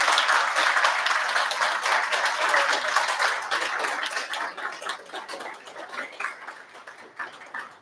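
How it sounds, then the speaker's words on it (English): An audience gives a round of applause at a talk event, a dense wash of clapping that starts loud and then gradually thins out and fades. "Please give these guys a round of applause."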